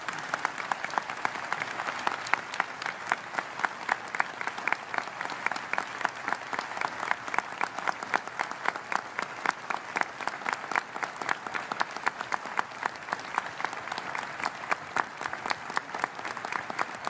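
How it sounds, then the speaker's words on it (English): A church congregation at an Adventist gathering claps in a strong, even rhythm, with many hands beating together steadily for over fifteen seconds. "I'm sure that he's hearing the sound of this applause"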